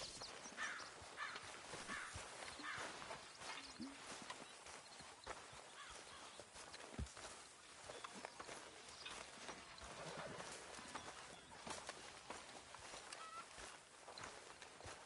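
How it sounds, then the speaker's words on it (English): Horse hooves clip-clop steadily in a PS4 video game, a quiet continuous trotting rhythm over soft outdoor ambience with an occasional crow caw. "horse."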